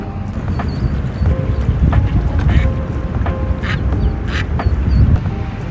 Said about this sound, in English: Holy crap, those baby ducks were cute.